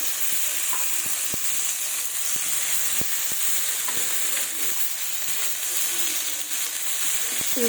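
Fish sizzles steadily in oil in a pan, a continuous close frying hiss with occasional soft clicks and stirring taps, as chopped tomatoes are added for a Bengali rui fish curry with brinjal.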